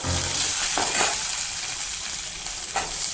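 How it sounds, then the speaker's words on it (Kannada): Urad dal and green chillies fry in a pan with a steady, close hiss of sizzling oil, broken by a few brief stirring scrapes. "ಉದ್ದಿನಬೇಳೆ ಇಷ್ಟು ಹಾಕ್ಕೊಂಡು ಫ್ರೈ ಮಾಡ್ತಾಯಿದ್ದೀನಿ"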